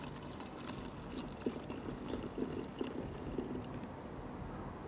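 Water runs steadily into a container being filled to the litre mark during a shampoo wash test, a soft, fairly faint trickle with a few light splashes.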